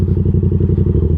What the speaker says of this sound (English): Nice aftermarket exhaust, has that deep rumble to it,